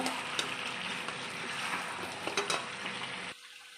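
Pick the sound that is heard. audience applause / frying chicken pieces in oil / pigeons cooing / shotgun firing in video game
frying chicken pieces in oil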